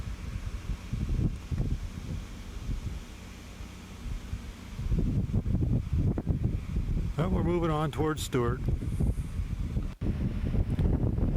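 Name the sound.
wind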